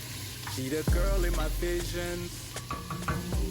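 Vegetables sizzling and frying in a pot for creamy chicken noodle soup, heard as a close, steady crackle and hiss with stirring clatter and a few utensil knocks throughout.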